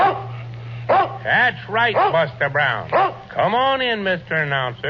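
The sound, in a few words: dog barking in old time radio show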